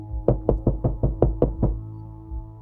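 A rapid run of seven loud, heavy knocks on a wooden door, evenly spaced, close and booming, then silence.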